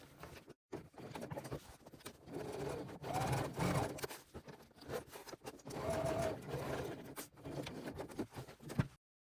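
Steady whirring of a sewing machine top stitching beside a zipper, with short stops and restarts, close by and moderately quiet.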